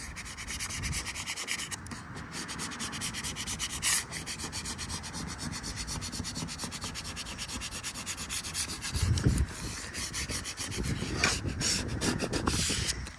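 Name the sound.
credit card rubbing down a vinyl car decal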